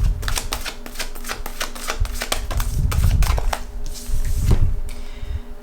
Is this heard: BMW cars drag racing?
no